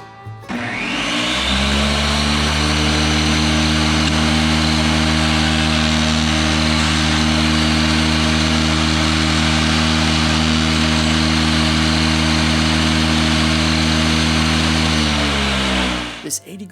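An electric sander runs an 80 grit adhesive disc against wood, a loud continuous motor whine with steady abrasive hiss, starting up and holding for about fifteen seconds before winding down.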